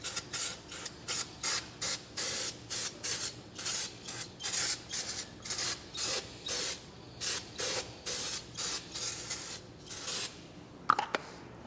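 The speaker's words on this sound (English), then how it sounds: "We just want to spray the inside of the drum here." Rapid repeated bursts of aerosol cleaner sprayed inside a trailer brake drum, hissing in a steady on-off rhythm, close and loud, about twenty short blasts with brief gaps between them.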